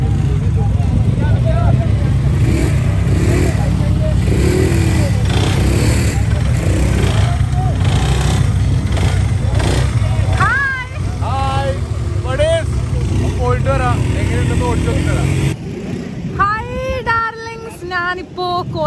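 Quad bikes run in the Dubai desert on a safari outing, giving a steady low engine drone that fades partway through, with scattered wind and background noise above it.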